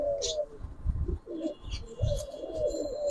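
Giribaz pigeons, including a green-necked silver pigeon, coo in soft low repeated phrases close by, with a few faint higher chirps and light shuffling between calls.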